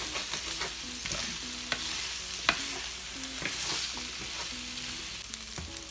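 Soyrizo and potatoes fry in a pan with a steady close sizzle, broken by repeated scraping and clattering strokes of a utensil as the mixture is stirred, with no voices.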